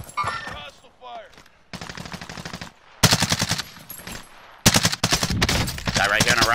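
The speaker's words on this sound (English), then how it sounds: "Hostile fire." Video game gunfire comes in loud, rapid automatic bursts, close and dense, with short gaps between volleys. A voice speaks briefly at the start.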